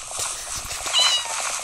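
A cat gives a meow, a short high-pitched cry rising near the middle amid light household background noise.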